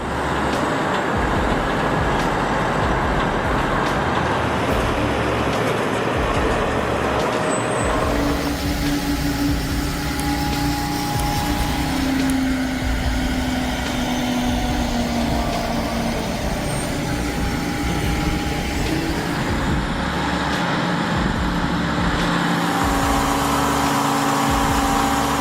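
A Kenworth heavy haul truck moving a 268,000-pound marine engine rumbles loudly and steadily, its low engine drone running continuously with a brief air-brake hiss and shifting tones as it works along.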